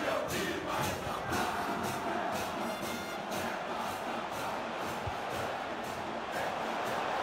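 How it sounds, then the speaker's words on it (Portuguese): A football stadium crowd in an EA FC video game match between Internacional and Vasco roars continuously, a dense, loud wall of chanting and urging cheers sustained throughout without a break. "A torcida pede o chute"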